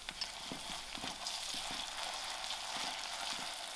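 Ginger-garlic paste fries in hot oil with golden-browned onions, a steady dense sizzle with faint stirring clicks throughout, no voices.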